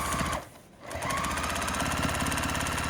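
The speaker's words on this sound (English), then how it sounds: "sew down this side with a 1/4 inch seam allowance" A sewing machine runs in steady rapid stitching bursts while sewing a fabric basket seam, pausing briefly once before resuming its even mechanical chatter, close and clear with no talk.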